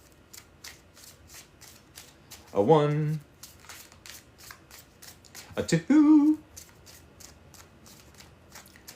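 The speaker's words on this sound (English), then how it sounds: "All right, 3 more shuffles, y'all." Tarot cards are shuffled in a quick series of soft riffles and slaps, with crisp papery flicks repeating in the background as a woman counts aloud twice between them.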